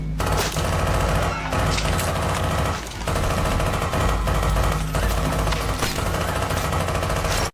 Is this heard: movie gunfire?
yes